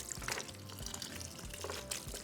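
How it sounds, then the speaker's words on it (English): A faint, steady stream of water pours into a blender cup that already holds mole poblano ingredients, a soft continuous trickle with no talking. "Let me add another cup of water to my cup."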